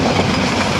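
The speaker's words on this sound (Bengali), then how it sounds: "এগুলো দেখতে দেখতে ট্রেন চলে যাচ্ছে, আমরা সামনে এগিয়ে যাচ্ছি।" Passenger train on a Mymensingh to Chittagong run in Bangladesh, rolling along the rails at speed: a loud, close, continuous rumble with rhythmic clickety-clack of the wheels, heard from on board with no talking.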